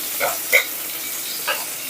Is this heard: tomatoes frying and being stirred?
yes